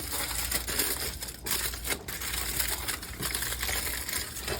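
Aluminium foil crinkles and crumples continuously while being wrapped around a rack of St. Louis style ribs, a dense, close, papery rustle with no talk.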